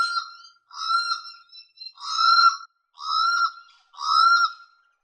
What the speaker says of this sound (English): The very noisy channel-bill cuckoo is a summer visitor to the New England.